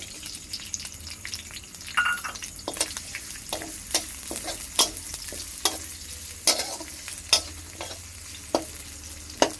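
Chopped onion sizzling in a pan as a spatula stirs it, with a steady frying hiss broken by sharp scraping strokes at a loose rhythm, close and alone with no talk.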